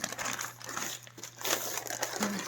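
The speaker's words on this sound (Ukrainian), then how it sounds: "І до наступної посилочки переходимо. До наступної відкриваємо." Plastic packaging around a parcel of embroidery kits crinkles and rustles in irregular bursts as it is handled and opened, close but fairly quiet.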